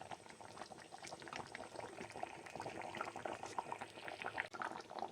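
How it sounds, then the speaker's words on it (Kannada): Ripe mango curry simmering in a pot bubbles and blips softly and continuously, quiet and close, with no talking. "ಇನ್ನೂ ಜಾಸ್ತಿ ಕುದಿಬೇಕು ಇದು"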